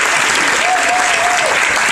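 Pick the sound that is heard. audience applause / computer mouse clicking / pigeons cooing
audience applause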